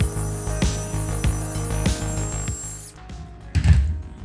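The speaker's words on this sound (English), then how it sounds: "All right, so let's start with vacuuming it out as best I can. Apologize for the noise." A vacuum cleaner runs steadily close by, sucking out a damaged section of wood floor, its drone broken by knocks and thumps as the nozzle bumps the boards before it cuts off near the end.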